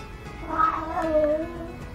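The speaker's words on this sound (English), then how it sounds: "That's my cat." A pet cat meows in one drawn-out, wavering call that rises and falls over about a second, fairly close and clear over a faint background hum.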